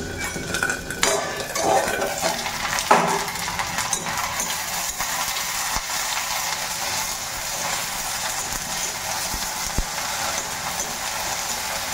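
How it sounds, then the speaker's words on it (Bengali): Onion and okra fry in a wok while a metal spatula scrapes and clinks against the pan, with the clatter loudest early on and a steady hiss underneath. "পেঁয়াজের সাথে ঢ্যাঁড়সটাও একটু ভেজে নিয়েছি"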